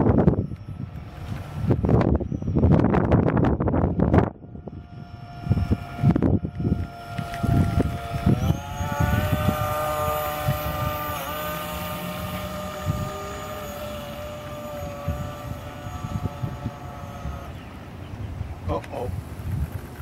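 An RC coast guard rescue ship model runs on the water at a model club's pond. Gusty wind and bumps come first, then a steady motor whine rises and holds. Voices can be heard faintly at times.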